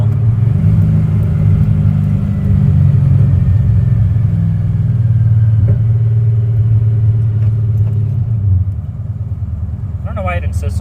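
A 1974 Chevy with a TBI Megasquirt fuel-injection conversion and a 3-speed transmission, driving on the road: a steady, loud low engine rumble that drops in pitch and eases off near the end, with a slightly poppy running note.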